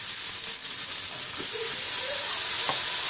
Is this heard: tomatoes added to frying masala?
yes